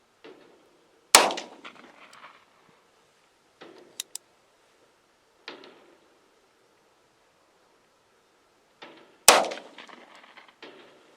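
Two loud, sharp gunshots about eight seconds apart, fired one-handed from a Bond Arms Rough-N-Rowdy .45/.410 derringer at a range, each one echoing briefly, with faint clicks and handling noise between them.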